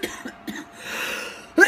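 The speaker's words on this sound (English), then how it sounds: "My cough is getting worse." Person with cystic fibrosis coughing while coming down with a cold, a few short close coughs in quick succession, then a sharper harsh cough at the end.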